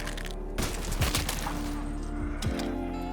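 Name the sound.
gunfire from a weapon in video game Black Ops 3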